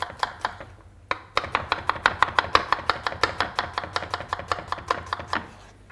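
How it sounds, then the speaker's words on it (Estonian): A knife chops red onion and garlic on a board in quick, even taps, about five strokes a second after a short pause, close and crisp with no voices. "mina hakin punase sibula suhteliselt väikseks"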